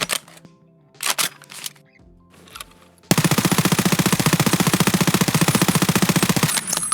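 Sustained automatic fire from a P90 submachine gun in Escape From Tarkov, a rapid, steady stream of loud shots lasting several seconds after a few quieter sounds.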